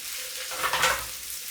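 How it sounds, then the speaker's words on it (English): Mushrooms cooking in a pan for creamy risotto give a soft sizzle with a brief swell of stirring scrape in the middle. "now the mushrooms will start to release their moisture"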